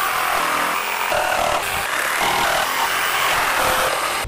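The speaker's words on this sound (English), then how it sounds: "I'm just gonna chop the rest of these notches out with the jigsaw." A jigsaw cuts notches in wood lumber for a panga boat build, buzzing loud and close in one steady, raspy burst with no talking.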